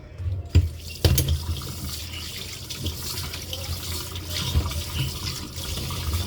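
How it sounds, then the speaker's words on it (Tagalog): Tap water running over muddy tomatoes being washed by hand in a sink, a close splashing trickle with a couple of sharp knocks early on and uneven swells of water noise. "Hugasan mo na natin itong kamatis. Kasi puro putik yung kamatis"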